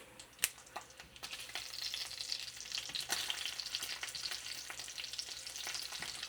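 Bacon fries in a pan with a soft hissing sizzle that builds and holds steady, punctuated early on by a few sharp clicks and a clatter of the pan being handled; no voices.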